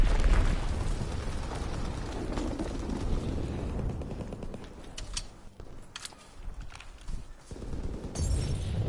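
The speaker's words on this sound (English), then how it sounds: "Dropping Fritz X-bomb. Oh, somebody got the glide bomb there." A Fritz X glide bomb detonates in a WWII video game, a broad, rumbling blast that rolls on and fades into crackling battle noise before swelling again.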